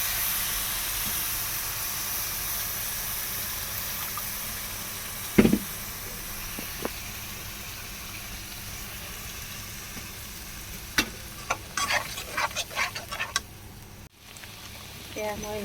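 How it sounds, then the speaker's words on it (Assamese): Coconut paste fries in hot oil in a wok for a small-fish curry, a soft steady sizzle broken by a sharp knock and later a run of clattering stirs and scrapes near the end. "তাতে এতিয়া তেলখিনি গৰম হোৱাত মই এয়া পেষ্ট বনাই থোৱা নাৰিকলখিনি দি দিছোঁ"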